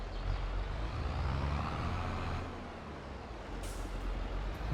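A trailer uncouples in Farming Simulator 22 with a long, loud air-brake hiss over a steady engine rumble. The hiss eases off partway through, and a brief sharper burst of air comes near the end.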